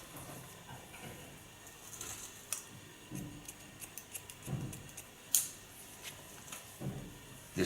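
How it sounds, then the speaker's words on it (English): Scissors point cutting the upper line of hair on an asymmetric cut with a side-shave undercut, heard as sparse, faint close snips scattered over quiet room noise. "Take the upper hair into a curve, go in, point cut the upper line."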